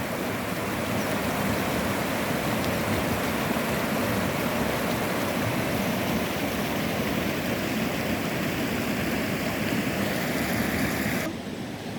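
Rain-swollen floodwater surging through a stream near the Musi river in Hyderabad, a loud, unbroken rushing roar that holds steady for about eleven seconds before dropping slightly, with no voices.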